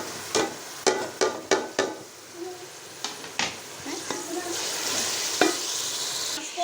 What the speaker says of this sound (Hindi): अब हम डालेंगे इसमें ये टमाटर और लहसुन अदरक का पेस्ट